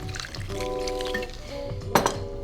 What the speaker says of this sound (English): Last but not least, soda water, good quality soda.